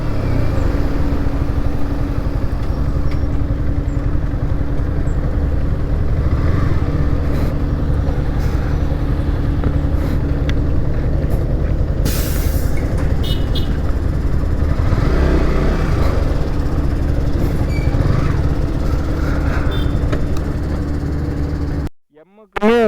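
A new motorcycle, a gift, is ridden along with its engine humming steadily up close and wind noise throughout, while someone talks over it; the sound cuts out abruptly at the end.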